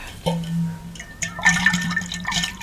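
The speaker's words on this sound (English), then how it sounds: "pour some water" Water poured from a bottle into a cup nearby, a short gurgling splash with rising liquid tones over a couple of seconds.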